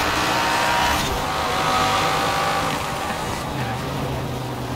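A 2016 Dodge Viper ACR in Forza Horizon 4, its engine roaring loudly and continuously as it accelerates hard, with a steady high-revving drone and a slight shift in pitch near the end.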